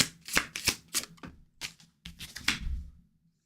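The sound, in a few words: shuffling tarot cards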